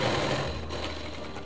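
A sewing machine stitches a seam on a katori blouse, a fast continuous mechanical whirring with a buzzy motor tone, close and steady, lasting briefly with no talking.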